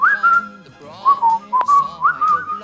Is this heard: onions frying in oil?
no